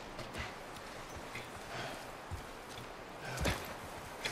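Irregular horse hoofbeats in The Last of Us Part 1 video game clop softly over a steady background hiss, a few thuds louder than others, with no voices.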